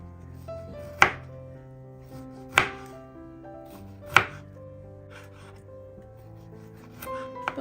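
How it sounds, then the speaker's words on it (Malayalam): A knife slices through a peeled kiwi on a board, making three distinct crisp thuds spaced about a second and a half apart, then fainter handling sounds over soft background music. "ഒന്ന് ഇതുപോലെ റൗണ്ടായിട്ട് കട്ട് ചെയ്യാം"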